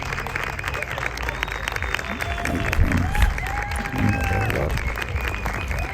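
An audience applauds at a national French Bulldog dog show in Mexico, with steady clapping that swells slightly midway, mixed with crowd noise and people talking.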